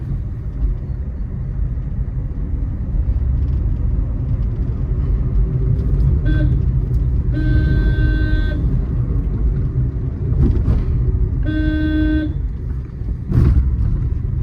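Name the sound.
car driving in third gear through a lane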